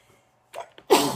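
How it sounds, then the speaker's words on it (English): A single loud sneeze from a person, preceded by a couple of short sharp intakes of breath, then a bright burst that trails off quickly in an otherwise quiet room. "I'm about to sneeze."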